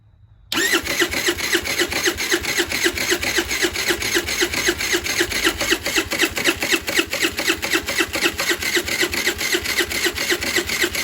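A scooter engine cranks over with a steady, rapid mechanical chatter that carries on loud and close for about ten seconds, following a brief silence; the scooter has a fully charged battery, brakes held, and a gunky fuel line.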